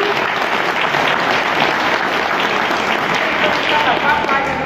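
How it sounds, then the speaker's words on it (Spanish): Sustained loud applause from a wrestling show audience, thick even clapping filling the whole stretch, with a voice faintly mixed in under it. "más quiero que le dé un aplauso"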